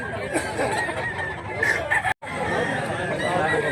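A rooster for sale at a rural market in Mantalongon, Cebu, crows and clucks nearby amid steady background chatter, with a brief cut partway through.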